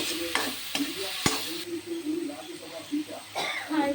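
Onions with salt sautéing and being stirred in a pan for a Palakkad-style ash gourd chicken curry, a steady frying hiss with repeated sharp scrapes and knocks of the spoon, close up, with bits of speech over it.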